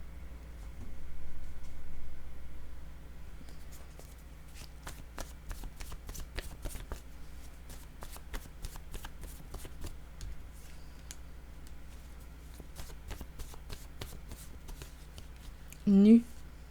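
Tarot cards being shuffled and laid down, a run of soft, quick riffling clicks and flicks repeating close by over a quiet room hum, with a short louder rustle near the end.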